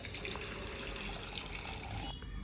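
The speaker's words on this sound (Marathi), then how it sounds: "आपण गाळणीने गाळून आता या फोडी आणि जे गुळाचं पाणी आहे दोन्ही आता सेपरेट करून घेतलेलं आहे" Cooked lemon pieces and jaggery water are poured through a kitchen strainer, making a faint, continuous trickle and splash of liquid.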